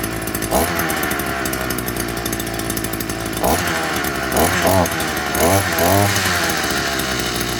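A Prorun earth auger's small engine runs steadily just after starting, a loud buzzing drone close by with a few brief revving swells, no talk over it.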